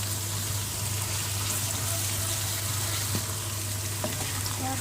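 Chicken pieces fry in oil in a pan, giving a loud, continuous sizzle with a steady crackling hiss close by and no talking.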